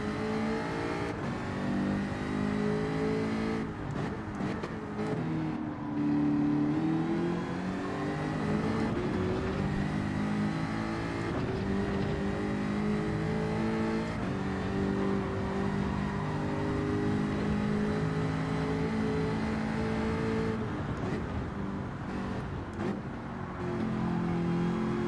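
Race cars in a Gran Turismo 7 race drone and rev steadily and loudly, with engine pitch rising and falling through gear changes for the whole stretch, no talking.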